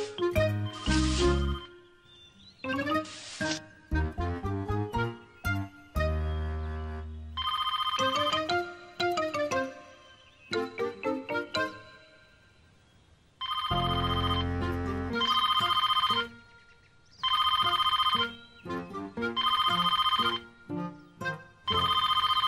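A cartoon telephone in a Miffy animation rings in bright repeated electronic bursts, loud and close, broken by short musical jingles and pauses over about twenty seconds.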